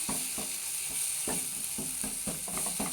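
Masala spiced with Kashmiri chili powder sizzles steadily in a pan for prawn malai curry, with a bright frying hiss throughout and regular soft scraping knocks from stirring.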